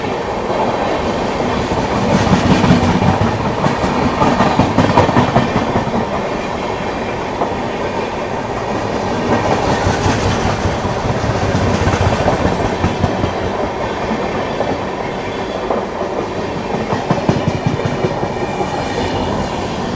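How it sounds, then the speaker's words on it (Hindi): The Shramjeevi Express passes close alongside on a parallel track during an overtake, a loud, steady rumble of rolling railcars with rhythmic clickety-clack wheel beats surging and easing over twenty seconds, with no voices. "यहाँ पे भाई श्रमजीवी एक्सप्रेस बगल से जा रही है।"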